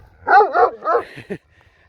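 A chained Kangal Anatolian shepherd dog lets out four quick, deep barks in a close, loud burst, the last one short and clipped, followed by near silence.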